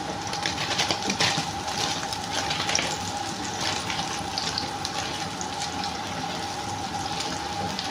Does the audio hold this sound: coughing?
no